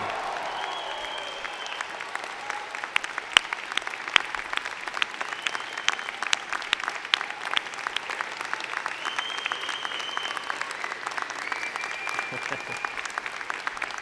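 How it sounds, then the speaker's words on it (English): At a university convocation ceremony, the audience applauds the graduating class in a sustained round of clapping, with some voices and cheers mixed into the crowd noise. "join me in applauding the amazing graduating class of June 2018"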